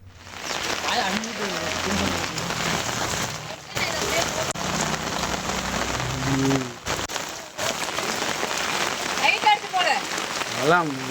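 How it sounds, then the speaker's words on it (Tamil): Heavy rain pours steadily in Manapparai near Trichy, a dense continuous hiss close by, with voices talking intermittently over the downpour. "வெளுத்து வாங்கிய கனமழையால் வீடுகளுக்குள் தண்ணீர் புகுந்துள்ளது"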